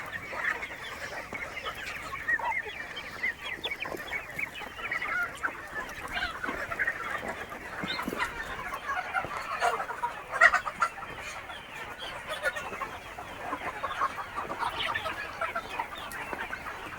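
Free-range village hens cluck and chatter steadily through the morning, a dense flock of overlapping calls with occasional louder squawks and what may be a goose honk, all without talk.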